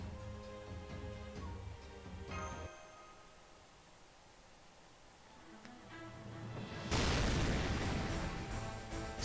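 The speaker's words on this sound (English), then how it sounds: "Explosions would get me every time." Game music from Fate/Grand Order plays, then a loud, broadband explosion boom bursts in near the end and rumbles on, with earlier softer thuds beneath the music.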